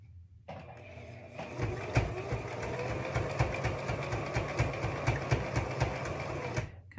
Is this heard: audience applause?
no